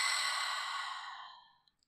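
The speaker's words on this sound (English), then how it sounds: "Just take 3 deep grounding breaths with me." A single long, deep exhalation from a person during a guided breathing exercise, breathy and steady before tapering off into quiet, close and alone with no talking.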